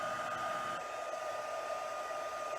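A heat tool blows steadily while melting white embossing powder on stamped paper flowers, giving an even, close, hair-dryer-like whir with a high tonal whine, heard alone.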